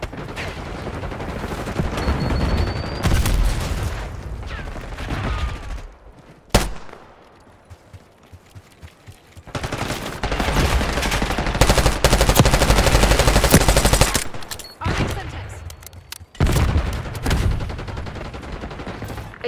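Sustained automatic gunfire from Call of Duty: Black Ops 6 multiplayer, loud dense bursts broken by short lulls and sharp single shots, with a near-silent gap midway before heavy firing resumes.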